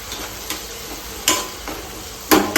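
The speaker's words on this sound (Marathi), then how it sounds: "लगेच एक साईडला फ्राय करायला घेतो" Food frying in a pan, a steady close sizzle under several brief louder bursts as it is stirred or turned, with no talking.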